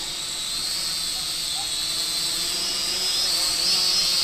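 Syma X56W foldable quadcopter drone in flight, a steady high-pitched propeller whine with a hissing edge that holds throughout, close and fairly loud with no talking.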